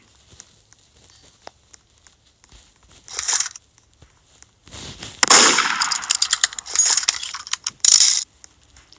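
Sharp bursts of gunfire in the game MM2 crackle in irregular clusters, loud and close, with quieter clicks and gaps between the volleys.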